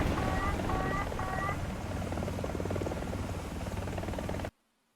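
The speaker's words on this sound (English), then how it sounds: "I'm pretty happy with this helicopter" Steady rotor drone of a Z-10ME attack helicopter in War Thunder, loud and continuous with a few short electronic beeps near the start, then cutting off abruptly at the end; no one speaks.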